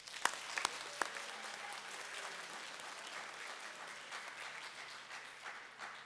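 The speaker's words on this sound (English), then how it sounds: "if we could please give a round of applause for our choir and our band" An audience at a high school fine arts festival applauds its choir and band, a few sharp claps up front followed by sustained, even clapping from a crowd in a hall.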